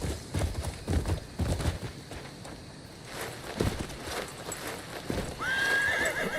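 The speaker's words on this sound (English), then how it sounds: "Jump it, horsey." Torrent, a horse in a video game, gallops with quick repeated hoofbeats, then lets out a whinny near the end; game music and ambience run beneath.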